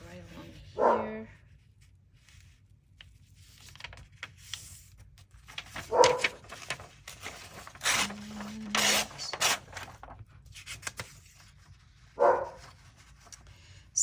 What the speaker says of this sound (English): barking at my husband right now, who is outside doing some yard work